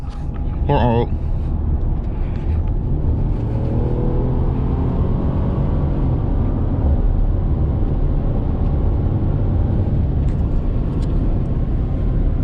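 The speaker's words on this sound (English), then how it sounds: "And that was pedal to the floor, man. All the way to the floor." A Ford F-150 EcoBoost pickup on an economy tune accelerates hard with the pedal floored, its engine drone climbing in pitch and holding loud and near inside the cab over constant road noise.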